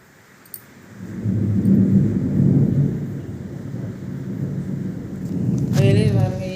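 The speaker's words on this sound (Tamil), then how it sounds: "வெளியே பாருங்க, இடி இடிச்சு மழை பெய்யுது." Thunder rumbles deep and rolling through a rainstorm, swelling after a sharp crack and lingering, with rain in the background and a brief voice near the end.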